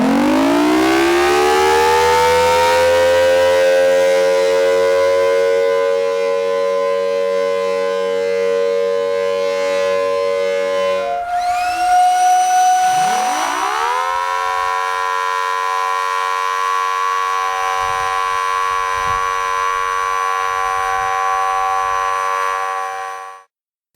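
A Mini Thunderbolt civil defense siren, modified to look and sound like a Westmont Thunderbolt, wails loudly and steadily with a rich chord; midway it cuts and drops, then rises again to a sustained tone before abruptly stopping.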